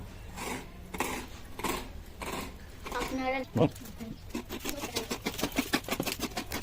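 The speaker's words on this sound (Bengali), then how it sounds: "দেখে নাও গাই সেখানে নারকল কুড়া স্টার্ট হয়ে গেছে মেশিনে নয় এগুলো একদম ঘরোয়া পদ্ধতি" Coconut is grated by hand the traditional way for rice-flour pitha, with rhythmic rasping strokes that speed up toward the end. A voice talks over much of it.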